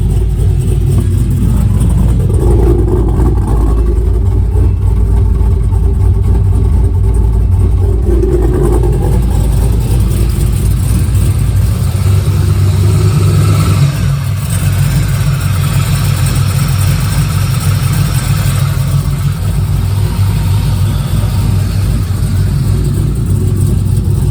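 A 6.7L LQ4 V8 swapped into a 2001 Pontiac Firebird Trans Am, running lean on first start, idles loud and close with a deep, rough rumble and small shifts in engine pitch throughout.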